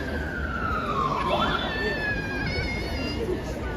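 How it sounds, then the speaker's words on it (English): A police car siren wails and sweeps in pitch as it passes through a street protest in Leeds, loud and fairly close over a steady crowd murmur, with a second siren tone joining partway through. "there's been a couple of police cars zooming around"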